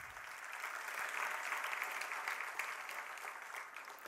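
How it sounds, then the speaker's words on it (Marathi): Steady applause from an audience, a dense wash of clapping that holds at an even level throughout with no voices. "सर्व मान्यवरांसाठी जोरदार टाळ्या होऊन जाऊ देत"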